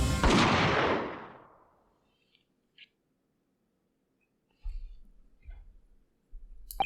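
A single loud gunshot in The Great Ace Attorney Chronicles, a sharp blast whose echo fades over about two seconds, followed by near silence with a couple of tiny clicks and later some low thuds.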